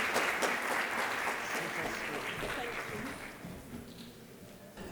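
Applause from a talent-show audience for a contestant, a dense and even clatter of clapping that holds steady and then tapers slightly toward the end.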